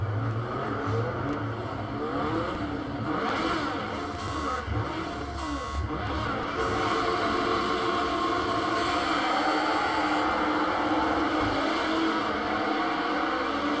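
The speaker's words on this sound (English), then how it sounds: "Let's get this car rolling." A racing car engine drones and revs in Project Cars 2 at Cadwell Park, a loud continuous whine rising and shifting through gears over most of the stretch, with no speech.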